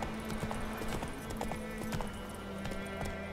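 Horse hooves clip-clop in a quick, uneven rhythm in The Witcher 3: Wild Hunt, close and clear over a steady background hum.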